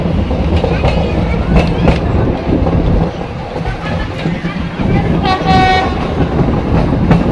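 A metre-gauge train rumbles past close by with rhythmic clattering over rail joints and a brief horn blast near the end, loud and continuous, on the Junagadh–Delvada line.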